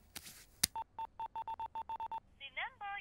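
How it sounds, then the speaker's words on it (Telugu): A telephone is dialed: a quick run of about ten evenly spaced beeping keypad tones, followed by a short ringback burst. Speech and a sharp click come just before, and the whole sequence is fairly quiet. "అరే వాడికి ఫోన్ చేయరా."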